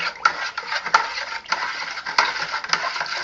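A sanitized spoon stirs hard cider in a full fermenter, where sugar is still dissolving, giving a continuous close swirl of gritty scraping and sloshing with soft repeated knocks against the vessel.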